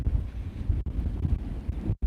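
Strong wind buffets the microphone in low, rumbling gusts, with a couple of brief drop-outs and no voices.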